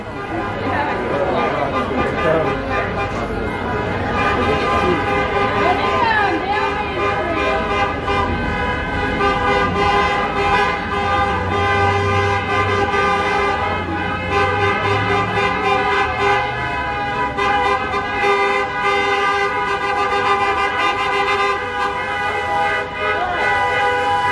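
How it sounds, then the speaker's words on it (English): Loud, sustained car horns blare over a busy street during a Serbian celebration, overlapping and continuous, with traffic noise and scattered voices underneath. "hear the horns honking."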